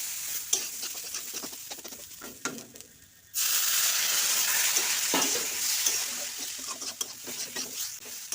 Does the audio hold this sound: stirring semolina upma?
yes